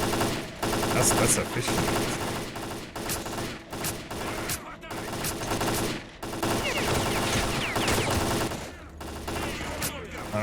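Dense gunfire from a firefight at a pillbox in STALKER: Clear Sky, bursts and single shots rattling almost continuously with a few short gaps, loud and close, with brief talk over it.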